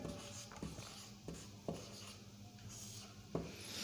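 Chalk or marker writing a Hindi word on a classroom board, faint scratchy strokes with a few sharp taps as letters are formed, close and quiet.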